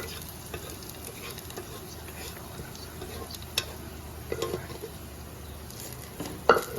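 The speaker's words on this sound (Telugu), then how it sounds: "తర్వాత మనం ఉడికించి పెట్టుకున్న పప్పు ఉంది కదా, ఆ పప్పు మొత్తం దీనిలో వేసేసుకుందాం" Cooked dal poured into a sizzling tempering for Telangana tomato dal and stirred, a steady low frying hiss with soft scraping and a couple of louder clinks near the end, no talking.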